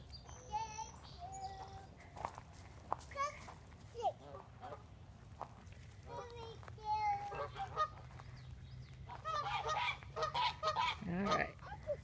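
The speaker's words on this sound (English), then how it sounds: "Those are geese." Geese honk repeatedly at a lake, a scattered chorus of nasal calls, some near and some farther off, growing busier toward the end, with faint voices of people nearby.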